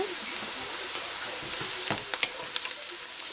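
Bitter melon (carallie) browning in oil in a pot, a steady loud sizzle with a run of stirring scrapes and clatters in the second half.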